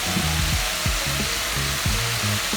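Spinach and other vegetables sizzle in a hot pan, a constant hissing fry beneath some low clattering and stirring noises.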